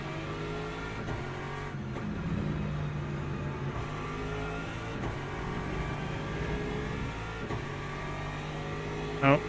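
Race car engine noise at Spa-Francorchamps in a WEC endurance racing game, a continuous mid-level drone with a brief swell as a Hypercar closes in, and a short sharp spike at the very end.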